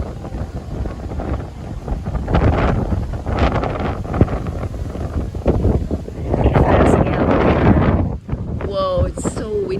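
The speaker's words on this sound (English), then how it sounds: "it's so windy" Strong gusts of wind buffet the microphone outdoors near Tokyo Tower, surging in loud rumbling waves, with occasional voices and rustling in between.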